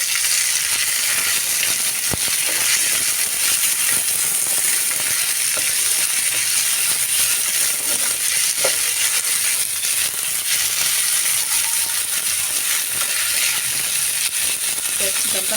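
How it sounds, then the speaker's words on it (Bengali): Chopped capsicum, ginger, green chili and tomato fry in a pan for vegetable spring roll filling, a continuous close sizzle with occasional clinks of a spatula stirring against the pan. "ক্যাপসিকামটা ভাজা ভাজা হয়ে যাচ্ছে।"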